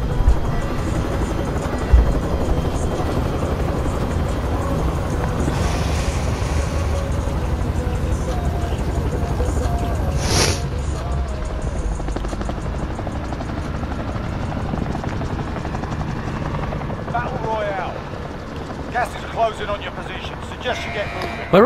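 Aircraft engine in Call of Duty Warzone, a steady low droning rumble and rotor-like buzz persisting throughout, moderately loud, with a person talking over it.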